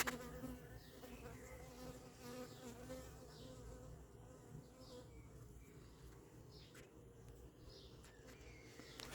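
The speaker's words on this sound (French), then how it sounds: "On voit l'abeille qui me tourne autour là." A bee buzzes close by, its drone rising and falling as it circles, with faint outdoor ambience and a distant bird in the background.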